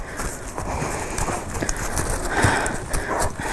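Horse named Bob stepping over logs on a cheap trail obstacle course, with soft hoof thuds and clip-clop footfalls at an uneven walking pace amid outdoor background noise.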